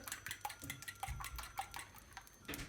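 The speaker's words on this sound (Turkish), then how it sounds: "Yumurtaları iyice çırpıyoruz böyle." Four eggs being whisked with a utensil against a bowl, faint rhythmic light clinks and taps repeating about every half second, alone without talk.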